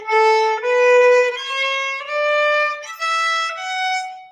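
A crunchy, strained, badly bowed violin tone stepping through several notes in separate strokes, rough and unpleasant, with no talking.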